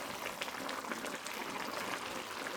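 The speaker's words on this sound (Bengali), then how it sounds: "সাথে সাথে আপনাদের দিয়ে দিতে হবে এখানে কর্নফ্লাওয়ার, যেটাকে আমি আগে থেকে একটা জলের মধ্যে গুলে নিয়ে স্লারি বানিয়ে রেখেছি" Cornflour slurry goes into a stir-fry of air-fried chicken and broccoli, giving a soft, steady, low-level bubbling and liquid hiss with no break and no talk.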